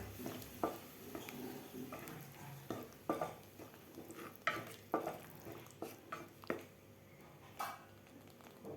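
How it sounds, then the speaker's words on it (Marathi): Spice masala with a little added water cooks in a pan for spicy fresh green pea (matar) bhaji, stirred by hand: soft irregular scrapes and wet squishing taps under a faint steady simmer, fairly quiet and close. "आता हा मसाला आपल्याला व्यवस्थित शिजवून घ्यायचा आहे पाणी घातल्यानंतर"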